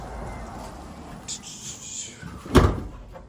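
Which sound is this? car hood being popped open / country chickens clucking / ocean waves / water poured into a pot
car hood being popped open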